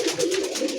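Pigeons kept for sale give a brief, soft throaty coo up close, a short burst of gentle warbling with no voices over it.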